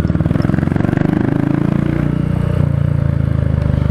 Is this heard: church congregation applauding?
no